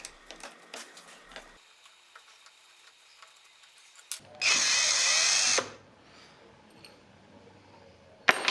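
A power drill backs random screws out of a corner bracket on the broken leg of a 1975 teak coffee table, one loud steady whir lasting about a second amid light ticks and clicks of handling, with a brief final burst.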